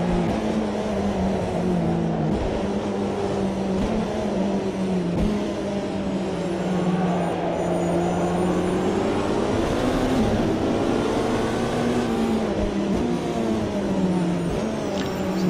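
Ferrari P1 race car engine in Automobilista 2 on a wet track, a loud steady high-revving drone holding alongside, pitch rising and dipping slightly through the run.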